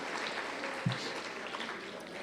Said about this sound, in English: So how about a big round of applause one more time for our young people?